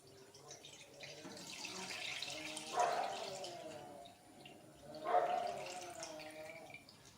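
Milk poured into a kadai in a home kitchen, two quiet splashing gushes of liquid a couple of seconds apart over faint background noise.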